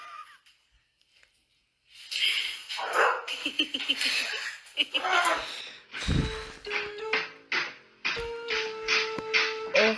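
A dog barks and yips in a series of sharp, uneven bursts mixed with whimpering whines, fairly close, after a brief quiet start.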